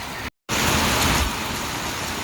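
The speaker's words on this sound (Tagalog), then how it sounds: "Ayan, lakas ng ulan." Heavy rain drums on a vehicle heard from inside the cab on a mountain road in Carranglan, a loud, constant hiss with a brief dropout near the start and no talk.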